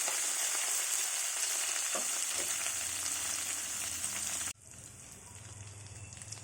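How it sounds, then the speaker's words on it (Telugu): Tempering spices fry in hot oil for pulihora, tamarind rice made with three kinds of leaves, giving a loud, steady close-up sizzle that suddenly drops to a quieter, softer crackle partway through. "పోపు కొద్దిగా వేగాక"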